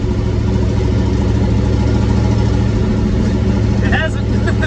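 A D-stroke 6-liter engine in a rat rod idles with a dense, steady low rumble that stays loud and even throughout, with a brief faint higher sound near the end.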